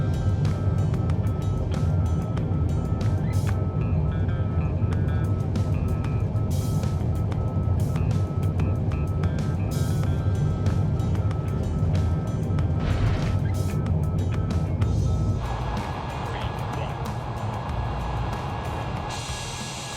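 An aircraft taking off in Microsoft Flight Simulator, a steady loud engine roar that holds throughout and eases slightly toward the end.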